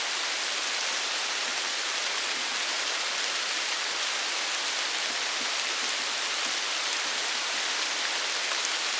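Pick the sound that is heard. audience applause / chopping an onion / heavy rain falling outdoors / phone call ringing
heavy rain falling outdoors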